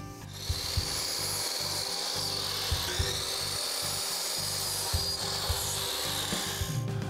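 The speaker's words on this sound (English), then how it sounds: "we're going to do is cut about 1 inch off of each one of these legs on the frame" A saw cuts about an inch off pine frame legs, making steady, rhythmic rasping strokes through the wood, close and continuous with brief pauses between strokes.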